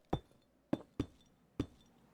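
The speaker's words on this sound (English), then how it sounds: "I wonder if regular deep slate sounds like this too." Deepslate ore blocks break in Minecraft with four crisp, clinking stone hits, close and distinct, separated by short irregular gaps.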